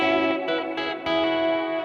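A Chapman Stick played through its full bridge pickup rings out in sustained, bright, harmonically rich notes with a few fresh attacks, loud and close with an effected, slightly distorted chorus-like tone.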